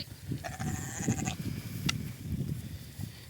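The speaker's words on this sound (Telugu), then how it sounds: "ఇక ఈ గొర్రె అయితే సంకల సుక్క పాలు లేవు ఫ్రెండ్స్. ఒకటే అరుపు." A ewe with no milk bleats on a farm, a clear harmonic call standing out from a continuous background of other animal sounds, with a short sharp sound near the end.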